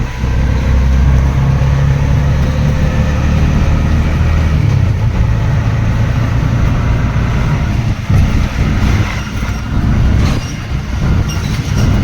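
A friend's auto rickshaw drives along on the way to Dombivli, its engine giving a loud, close, continuous rumble with rattling and clattering from the ride, heard from inside.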